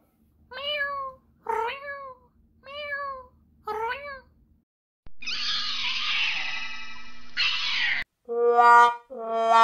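A cat meows four times in short, separate cries, followed by a loud hissing burst and then two more sharp meows.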